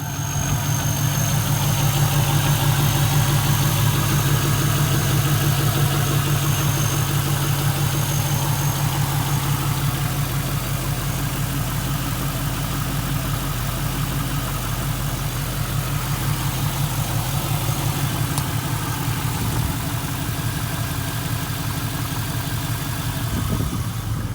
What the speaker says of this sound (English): let's get that engine started and take a look at the engine bay